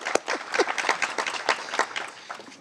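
Scattered, moderately close clapping from a small audience at a police memorial award ceremony, individual claps standing out in an uneven, brief round.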